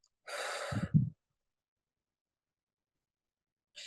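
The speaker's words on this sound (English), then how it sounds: "And then we're going to inhale and exhale." A single deep breath, a quick audible inhale followed by a short exhale, is close and fairly soft, with near silence afterward.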